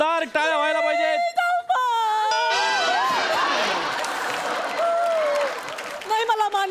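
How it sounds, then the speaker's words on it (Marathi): An audience at a Marathi television comedy show breaks into applause and cheering, a broad wash of clapping and crowd noise that swells in the middle, with voices speaking over it before and after. "तर एकदा जोरदार टाळ्या व्हायला पाहिजेत"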